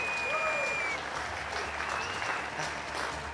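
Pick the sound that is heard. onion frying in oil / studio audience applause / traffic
studio audience applause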